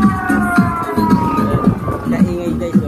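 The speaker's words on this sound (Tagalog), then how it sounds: "Ayan na po yung sirena, oh." A tsunami warning siren wails loudly and continuously in Dingalan, Aurora, its sustained tone carrying across the town with a rhythmic pulsing background underneath.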